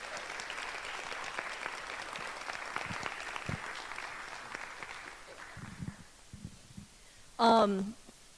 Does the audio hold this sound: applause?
yes